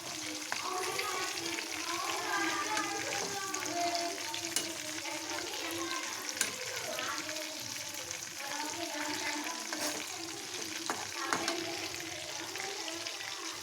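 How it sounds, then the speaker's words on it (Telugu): Fish pieces deep-frying in a pan of oil bubble and sizzle steadily at a moderate, fairly soft level throughout, with faint crackles and a few sharper pops. "ఆయిల్లో ముక్కలు వేసుకున్నాం కదా, ఇది స్లోగా తిరగేసుకోవాలి"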